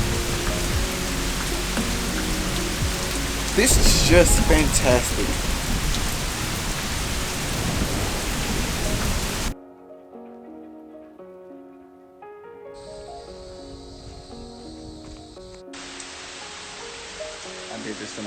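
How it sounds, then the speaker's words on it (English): Rain and thunder from a thunderstorm at Moss Rock, heard while sheltering under large boulders: steady heavy rain noise with a rumbling swell, then an abrupt drop to quieter ambience with tonal music and a brief spoken remark. "It's the thunder roaring."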